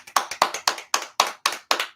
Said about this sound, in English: We just want to give a round of applause to everybody that just got the nod